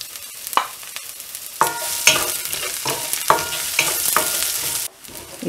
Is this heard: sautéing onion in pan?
yes